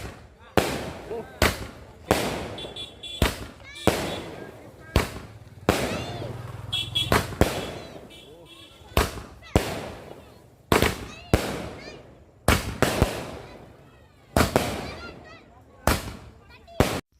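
Fireworks and firecrackers going off at a wedding, a long series of loud, sharp bangs and crackling bursts at irregular intervals, some in quick pairs, with faint crowd voices and talk between them.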